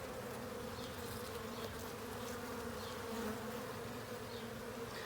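Honeybees buzz steadily around an open hive as frames are inspected, a dense continuous drone close by with a few individual bees passing nearer.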